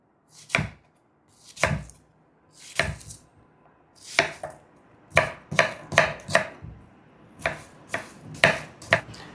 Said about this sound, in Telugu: మనం ఉల్లిపాయని పొడవుగా కట్ చేయకూడదు, సన్నగా ముక్కలు ముక్కలుగా కట్ చేసుకోవాలి.